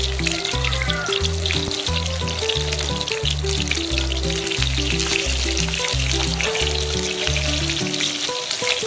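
Brinjal pieces fry in oil for a biryani eggplant gravy, giving a steady sizzle and crackle with occasional stirring, set under loud rhythmic background music with a repeating bass line.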